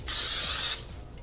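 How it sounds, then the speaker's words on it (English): A single short hiss of cooking spray onto a pan lasts under a second, close and fairly loud, followed by quiet room noise. "We're gonna do this pan spray on the pan."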